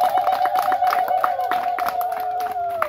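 A church congregation claps in a quick, regular rhythm during a Swahili Lutheran service, the beats under a sustained voice.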